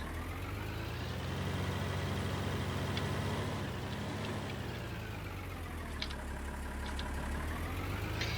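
A tractor engine idling in Farming Simulator 19, a steady low rumble with a mid-range drone and gently wavering pitch throughout, with a few faint clicks and no talking.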